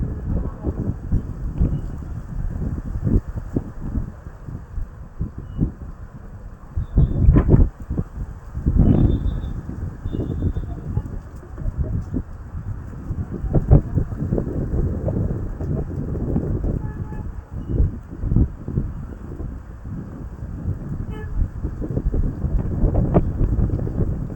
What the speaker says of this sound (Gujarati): પવન સાથે વરસાદ છે વાવાઝોડા ટાઈપ